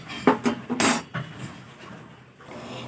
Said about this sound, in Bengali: সব কিছু দেওয়ার পরে আমি একটু জলটাকে নাড়াচাড়া করে নেব